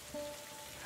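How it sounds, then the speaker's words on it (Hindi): Rain pours steadily during a stormy evening, an even close hiss of falling drops heard alone. "बारिश की धारें बरसने लगी।"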